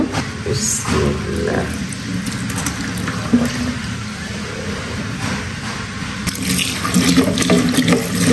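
Running tap water pours through a strainer as tomato seeds are rinsed clean, a steady close splashing rush that swells louder toward the end.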